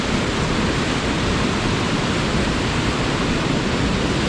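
A waterfall in Wayanad pours into a clear natural pool, making a loud, unbroken roar of rushing water heard close by with no voices.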